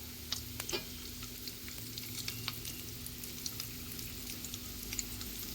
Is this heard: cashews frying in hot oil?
yes